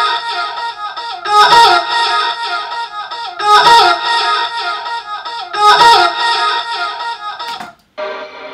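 A heavily processed vocal with Serum effects, distortion and multiband compression plays in three loud, buzzy, repeating phrases with bright, gritty edges, each ending in a clipped hit, before it cuts off into a short quieter tail.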